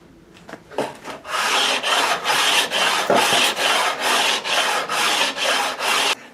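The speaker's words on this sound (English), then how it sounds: "he'll use that to just sand the desired 20-foot radius into the entire length of the board" A guitar fretboard is sanded to a 20-inch radius with sandpaper glued to a radiused block, giving steady, rhythmic back-and-forth rasping strokes, close and loud, repeating about twice a second.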